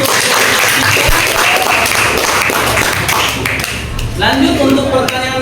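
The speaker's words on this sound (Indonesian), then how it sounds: "Tepuk tangan dulu untuk" A classroom audience at a religious-education group presentation bursts into sustained, fairly loud clapping that fills the whole stretch without letup, with a voice briefly audible near the end.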